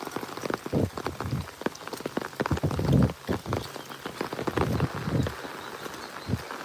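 Rain falls on leaves and ground in a forest, a steady pattering broken by irregular nearby thuds and crunches like footsteps, with no one speaking.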